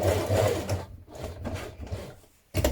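A domestic sewing machine stitches across the bottom of a dress dart in short close bursts, whirring and rattling, easing off and pausing before starting up again.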